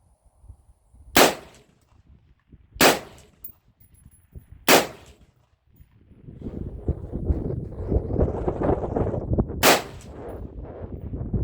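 Four sharp rifle shots fire at uneven intervals, Winchester White Box 55 grain ammunition, loud and close, with steady wind rumble filling the gaps in the second half.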